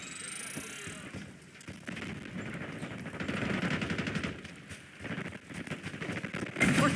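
Rapid machine-gun bursts and scattered gunshots in a Call of Duty: Black Ops 6 multiplayer match, moderately distant and steady, with radio-style voice callouts and game ambience underneath.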